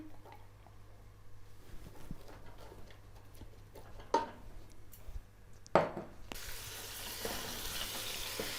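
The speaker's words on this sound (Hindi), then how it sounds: "इसमें हाफ कप ऑयल ऐड करूँगी। साथ ही इसमें स्लाइस में कटे प्याज 2 अदद बड़े, इसे ब्राउन करेंगे।" Two large sliced onions browning in half a cup of oil in a pot: quiet, steady sizzling and frying with a few sharp clinks of a spoon, swelling into louder hissing near the end.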